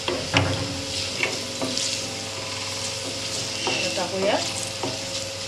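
Cabbage with coriander powder and homemade garam masala stirred in a hot pan, a steady sizzle under repeated scraping strokes of a spoon, with a brief spoken word near the start.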